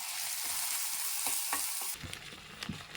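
Grated coconut fries in a pan for black kavuni rice sweet pongal, giving a steady, close sizzle that gives way to softer stirring scrapes and clicks near the end.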